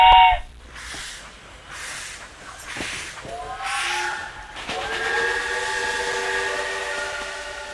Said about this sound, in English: the Khyber Safari train runs through the rugged mountains of the Khyber Pass, making it an exhilarating experience.